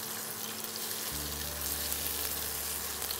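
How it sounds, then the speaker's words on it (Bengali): Chopped garlic and onion hit hot oil in a pan and break into a loud, continuous sizzle that holds steady, close by and with no talking. "এবার দিয়ে দেবো রসুন আর পেঁয়াজ কুচিটা"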